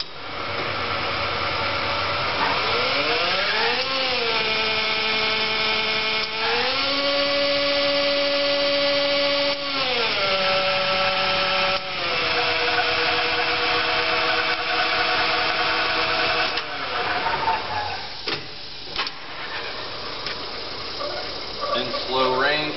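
A Hardinge HC chucker lathe runs with a steady motor whine whose pitch rises and falls as speed ranges change and the carriage moves longitudinally, continuous and fairly loud, with brief clunks near the end.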